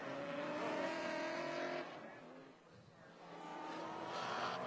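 A field of GTS race cars led by a Cadillac ATS-V pace car at Sonoma Raceway drones past in a loud, sustained engine roar that dips briefly and then swells again, with no voices.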